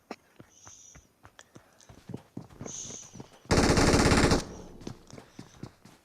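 Video-game gunfire: scattered sharp shots and clicks, then a loud sustained automatic burst lasting about a second, followed by more sporadic single reports, all with no talking.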